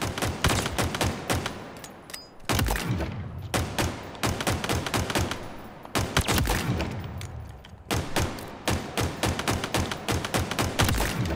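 Rapid bursts of automatic gunfire from a newly picked-up weapon in Halo Infinite multiplayer, loud and close, firing in repeated volleys separated by short pauses.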